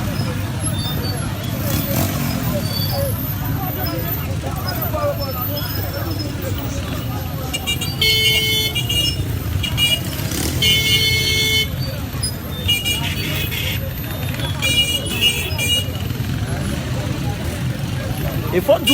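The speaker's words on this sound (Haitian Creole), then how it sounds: "En pile moto dans parcours mesdames messieurs." Motorcycles and cars crowd a street parade route, with engines rumbling steadily and repeated horn toots clustering midway, all under continuous talk.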